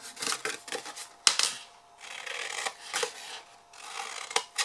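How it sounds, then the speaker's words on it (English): Scissors snip wedges out of paper at close range, a series of crisp cutting strokes and rustles with short pauses between bursts. "So cut my wedges out."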